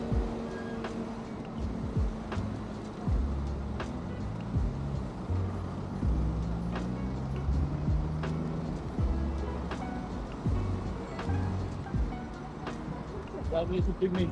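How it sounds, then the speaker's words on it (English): Cars pass along a street in Bucharest, their low engine hum rising and falling, with wind buffeting an in-camera mic. Voices talk over the traffic. "It's picking up all the wind, all the cars."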